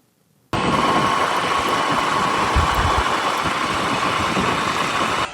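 A motorbike engine idles in traffic, starting abruptly after a brief quiet and then holding a loud, steady, close rumble with a low throbbing pulse until it cuts off at the end.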